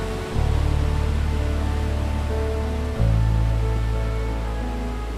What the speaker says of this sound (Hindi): ये धुआंधार वाटरफॉल